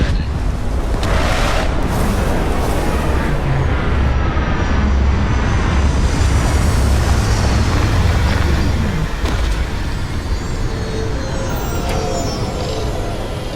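A spaceship landing in the video game Starfield: a loud, steady engine roar with rumbling thrust and deep booms throughout, easing slightly near the end, with no one talking.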